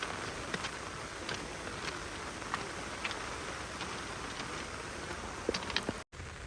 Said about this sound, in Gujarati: વરસાદ તો બરાબરનો આવવા લાગ્યો.